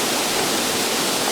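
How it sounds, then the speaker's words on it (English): Steady, dense rushing water of a waterfall in Juayúa, El Salvador, a continuous broadband roar with no pauses. "watch Mario go crazy climbing up to the top of the waterfall"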